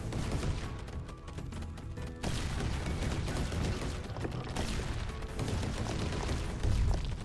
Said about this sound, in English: The explosion is just so satisfying when the hammer does end up landing.